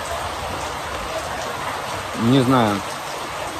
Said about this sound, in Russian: начался дождь